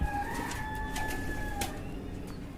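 Pet pigeons from a paired breeding stock coo softly and steadily in a loft, a low continuous murmur with a couple of thin higher whistling tones drifting over it throughout.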